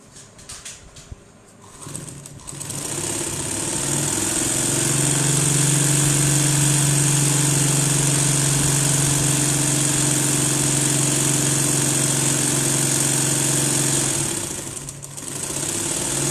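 A sewing machine runs steadily for over ten seconds, stitching the corner of a fabric strip for a crochet bag, a loud continuous motor whir that starts after a few faint handling sounds and fades at the end.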